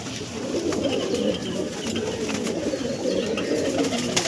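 Low, throaty cooing from Andhra pigeons rolls on continuously, a dense chorus of birds close by.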